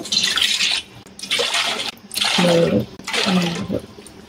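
Four cups of water are poured one after another for cooking rice, each a close, splashing gush lasting under a second, separated by brief pauses.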